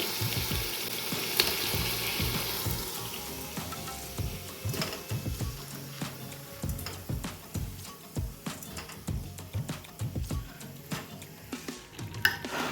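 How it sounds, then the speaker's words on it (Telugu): Boiled country chicken cooks in a pan of fried masala curry, with a continuous sizzle broken by repeated sharp clinks and scrapes of a spoon against the pot, close and alone without talk. "మనం ఫ్రై చేసిన మసాలాలో ఇప్పుడు దీన్ని వండుదాము మస్తుగా"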